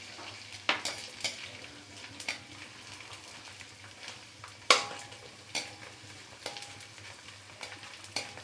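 Edible gum (gond) frying a little at a time in a pan on high flame, a faint steady sizzle broken by sharp intermittent scrapes and clinks of stirring, with no voices.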